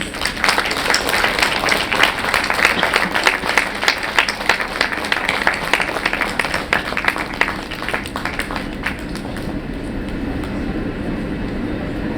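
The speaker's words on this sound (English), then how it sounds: "Ladies and gentlemen, a round of applause, please" Audience clapping at a medical conference inauguration ceremony, a dense burst of applause for several seconds that thins out and fades into quieter room noise near the end.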